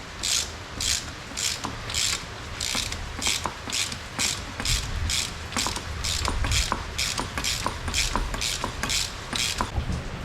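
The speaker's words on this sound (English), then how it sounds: "slowly crank down on one side, making sure it's not trying to slide on the spring" A ratchet cranks steadily on a strut spring compressor during Cadillac XT5 front strut work, giving a close, rapid run of clicking pawl strokes in even bursts that continue throughout.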